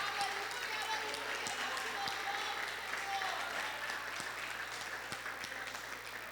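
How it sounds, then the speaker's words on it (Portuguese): A church congregation applauds loudly during a Brazilian Portuguese worship service, with sustained dense clapping filling the room for over six seconds and voices mixed in beneath it. "Aplauda forte o Senhor."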